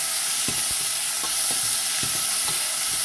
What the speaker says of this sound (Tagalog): At syempre ang ating bawang. At haluin lang po natin.